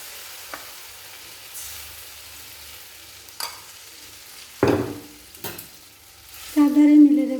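Rice batter for vegetable uttapam goes into a pan oiled with white oil, giving a faint, steady sizzle broken by a few sharp clinks and scraping stirs.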